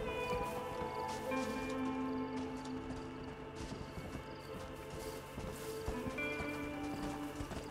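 Horse hooves clip-clop steadily through the whole stretch of Red Dead Redemption gameplay, a brisk rhythmic trot set over a busy bed of ambient game sound, with one brief whinny.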